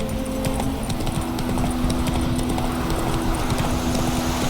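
Steady rhythmic hoofbeats of a galloping horse in the video game The Witcher 3, continuous and close, with a constant droning hum of game ambience underneath throughout.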